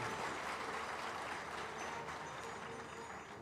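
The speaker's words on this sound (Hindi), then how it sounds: "ठीक से ताली बजाइए।" An audience applauding at a Hindu spiritual discourse by Jagadguru Rambhadracharya, a steady, faint wash of clapping that carries on evenly throughout.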